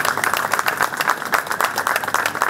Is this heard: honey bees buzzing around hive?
no